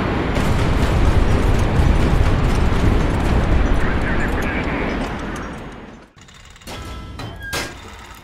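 In the naval strategy video game HighFleet, a Zenith missile explodes with a loud, dense, roaring blast that rumbles for about six seconds and then drops off sharply. Fainter crackling and a brief tone follow.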